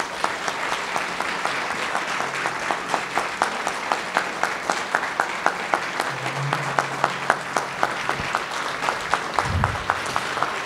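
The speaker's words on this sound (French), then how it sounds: "vous pouvez lui rendre hommage à travers un applaudissement bien senti" Gala audience applauds the mayor of Amqui, a sustained crowd of hands clapping with distinct individual claps standing out in a steady rhythm, with faint murmurs beneath.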